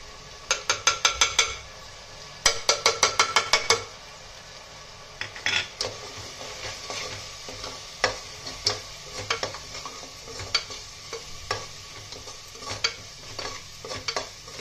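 Chili powder and turmeric stirred into frying ingredients in a pan, with rapid bursts of spatula scraping and clinking against the metal over a soft sizzle, then slower, scattered stirring strokes.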